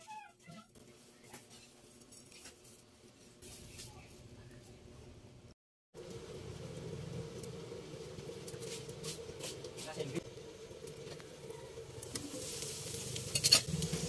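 Veggie embutido coated in breadcrumbs fries in a pan, a steady moderate sizzle with occasional stirring and utensil clinks, a brief pause midway before the sizzle resumes louder and continues to the end.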